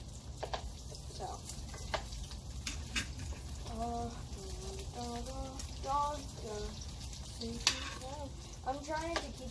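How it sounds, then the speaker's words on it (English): Potatoes fry in bacon grease with a soft, steady sizzle and occasional stirring scrapes, quiet and close, while a voice talks over it. "we're just cooking them right now in this bacon grease"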